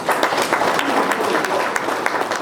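Audience applause at a gathering in Kisii, Kenya, with dense, steady clapping from a crowd, loud and continuous throughout.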